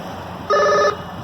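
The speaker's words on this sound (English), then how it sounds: "there go the phone ringing" One short electronic telephone ring tone sounds clearly for about half a second, with quiet background noise before and after.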